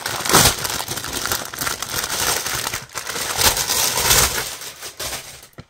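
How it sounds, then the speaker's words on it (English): Crinkling and crushing plastic packaging as a newly arrived mold package is torn open, with continuous close rustles and sharper crackly bursts throughout, no voice. "Sorry for the package noise."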